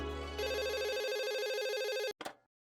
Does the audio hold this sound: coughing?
no